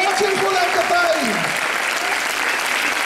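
Audience applause at a religious teshuva conference, dense steady clapping filling the whole stretch while a voice speaks over it.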